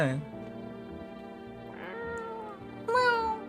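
A cat meows several times, tonal drawn-out cries at the start, in the middle and a louder one near the end, heard close over a quiet background with some vocal-like tones.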